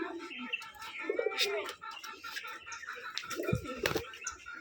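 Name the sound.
Hatbaji pigeons cooing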